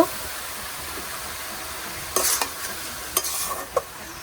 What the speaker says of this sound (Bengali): ভাজা মাছগুলো দিয়ে দিব।